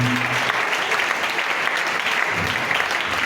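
A church congregation applauds in steady, dense clapping that continues throughout, loud and close, with a voice briefly heard beneath it.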